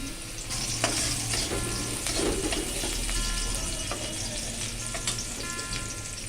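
Garlic fries in oil in a pan while cheesy pasta is being made, a loud, continuous close sizzle mixed with the scrape and clatter of stirring, with no talk.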